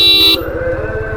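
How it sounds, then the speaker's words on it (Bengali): A Suzuki Gixxer SF motorcycle's dual horn, faulty so only one side sounds, gives one short, loud, close blast, then the bike's engine idles with a steady low throb. "এই হর্নটা হলো যে আমার ডুয়েল হর্ন লাগানো, কিন্তু এক সাইডে এটা বাজে।"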